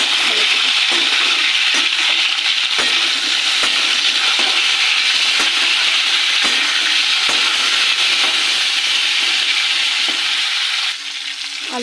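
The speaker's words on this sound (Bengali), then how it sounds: "আলু ফুলকপিটা ভাজা হয়ে গেছে প্রায়" Potato and cauliflower fry with spices, ginger, tomato and green chilli in a pan, giving a steady, loud, close sizzle with occasional stirring scrapes and no talk.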